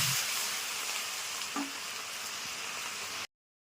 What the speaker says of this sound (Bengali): পেঁয়াজ বাটাকেও আমি ভালো করে নেড়ে ছেড়ে ভেজে নেব।